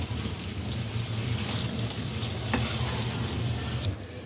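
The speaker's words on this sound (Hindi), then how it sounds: "मैं इसे लो फ्लेम पे कुक कर रही हूँ।" Potato and cauliflower sizzle steadily in a pan over a low flame for aloo gobi sabzi, a dense, crackling hiss with occasional scraping stir strokes and no voices.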